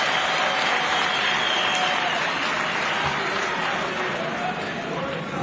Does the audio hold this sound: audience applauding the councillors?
yes